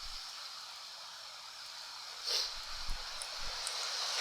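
Strong wind blowing outdoors, a broad steady hiss and rush close to the microphone that swells in gusts toward the end, with faint low knocks.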